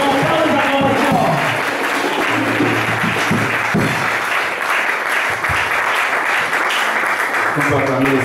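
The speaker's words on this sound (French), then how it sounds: "sous vos acclamations, le pasteur Lewis Cooper" A church crowd cheers and claps loudly for Pastor Lewis Cooper, a dense, sustained wall of applause with shouts and voices woven through it, holding steady throughout.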